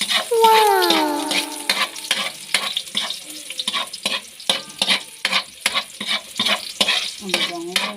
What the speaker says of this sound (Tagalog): Ilalagay na natin yung bawang.